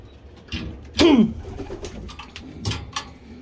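Pigeons in a loft coo at close range, one loud throaty coo standing out among softer calls and rustling, with someone talking quietly in the background.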